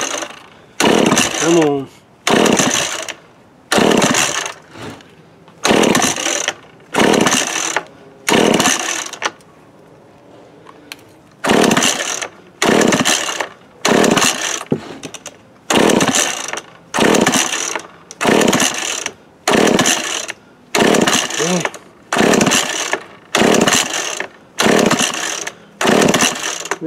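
A 1979 McCulloch Mac 110 chainsaw is pull-started again and again; loud, regular bursts of the recoil starter cord rasp about once a second with brief gaps, while someone speaks briefly over the cranking.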